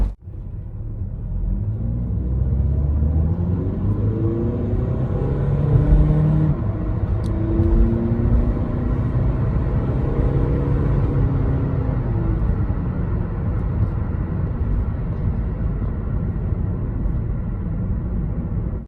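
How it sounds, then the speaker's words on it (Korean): A 2013 Volkswagen Beetle 2.0 TDI diesel with about 140 horsepower accelerates hard to 100 km/h, its steady loud engine drone and road rumble heard from inside the cabin, pitch climbing through each gear before dropping at the shifts. "그러면은 100km 가속 한번 해볼게요"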